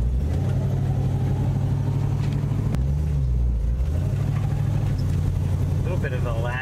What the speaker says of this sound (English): now you're on the normal idle